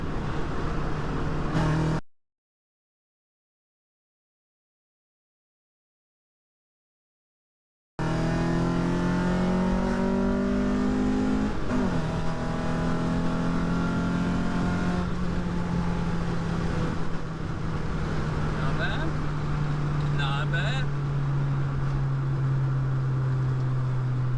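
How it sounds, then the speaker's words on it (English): A car engine revs up hard and pulls steadily in third gear, its pitch climbing through a long full-throttle run with tire and road noise, after a brief cut of silence. "we're gonna see what she does from a third gear pull."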